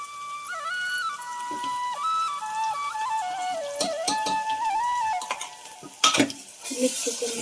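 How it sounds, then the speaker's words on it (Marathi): Onion, tomato, garlic and coconut roasting in a pan, heard as a soft sizzle with occasional stirring clinks and scrapes, backed by a continuous whistling tone. "कांदा टोमॅटो थोडं भाजलं की मग लसूण खोबरं टाकते"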